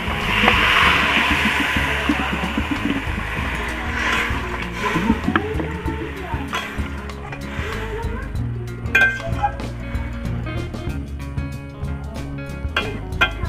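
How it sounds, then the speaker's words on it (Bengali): Water poured into pumpkin curry in a pan: a loud, close, steady gush of pouring for a few seconds, then fading into bubbling and light clinks of utensils against the pan. "এখন আমি পরিমাণ মতন জল দিয়ে দিচ্ছি"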